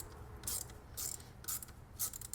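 A ratchet wrench clicks in four short bursts, close and clear, while a power steering line is refitted on a BMW E30.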